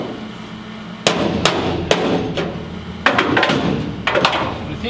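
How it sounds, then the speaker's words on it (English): Sharp metallic hammer blows on a dolly against sheet metal in the floor area of a 1970 Mustang, a scattered series of loud, ringing strikes in quick bursts over shop background hum. "if we just keep working it with a hammer and dolly,"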